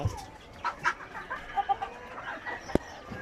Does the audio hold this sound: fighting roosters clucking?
yes